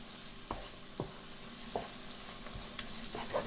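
Curry powder frying in a pan makes a soft, low sizzle broken by a few sharp spoon scrapes and taps at irregular intervals, close but quiet, with nobody speaking.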